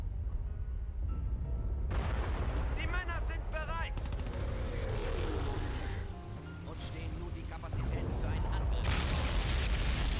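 Artillery fire in the WWII strategy game Blitzkrieg during a North African battle, Afrika 43, heard as dense booming and rumbling, with a commentator talking over it throughout.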